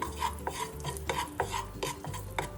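Turmeric frying in a little oil in a pan, soft sizzle under a regular rhythm of spoon scrapes and taps against the pan, close and fairly quiet with no voices.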